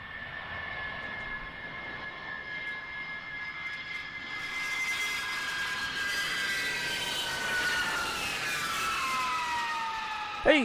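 A Lockheed C-5 Galaxy transport jet arrives, its engine roar and high turbine whine building and shifting in pitch as it draws closer, loud and continuous with no talk.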